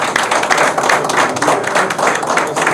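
Audience applause at a political press gathering in Gabon, steady close clapping from many hands filling the whole stretch without a break.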